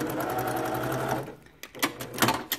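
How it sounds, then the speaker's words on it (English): A sewing machine stitches two fabric pieces of similar width together for improv quilt piecing, a fast steady mechanical whir up close that stops partway through, followed by a few soft clicks and handling taps. "I'm going to sew two pieces together"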